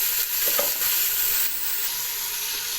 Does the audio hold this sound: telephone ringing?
no